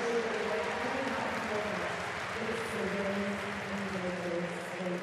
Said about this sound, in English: taking the cheers of the crowd